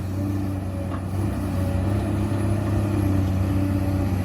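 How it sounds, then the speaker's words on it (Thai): A Komatsu PC200-8M0 excavator's six-cylinder diesel engine exhaust rumbles steadily and close by while digging mud, a deep, constant throbbing drone with a slight swell in loudness, with no talk over it. "เสียงท่อเพียวๆเลย ไม่มีเสียงหอนไม่มีอะไรสักอย่างหนึ่งนะฮะ"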